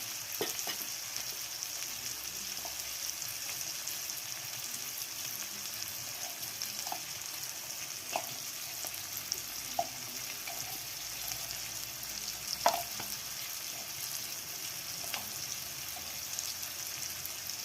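Spices and tomato for a winter cauliflower dish sauté in a pan with a soft, continuous sizzle. Occasional faint stirring clicks and scrapes sound throughout, and no one speaks.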